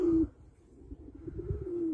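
A newly bought female tumbler pigeon coos up close, one low throaty call at the start and a longer soft coo later, over quiet background rustling.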